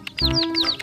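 A colourful rainbow chicken gives a single short, loud cluck up close, with nothing else sounding around it.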